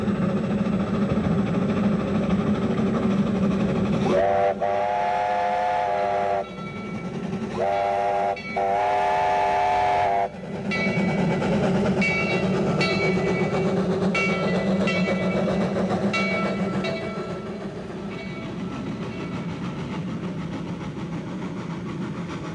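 A steam locomotive chugs and rumbles close by on a steep, curving climb toward Bear Mountain summit, letting out long whistle blasts, then continues its steady labored run with wheels clanking.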